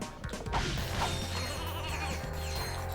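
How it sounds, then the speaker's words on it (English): Sheep bleat repeatedly in the Starship Troopers video game, several wavering cries overlapping amid mechanical clanks and crashing game sounds, fairly loud and close with no talk. "More sheep again."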